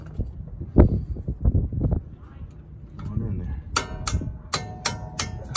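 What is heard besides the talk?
hammer tapping brake part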